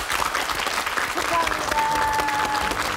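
A studio audience on a Korean TV talk show breaks into big applause, a full steady patter of clapping with voices and cheering mixed in over it.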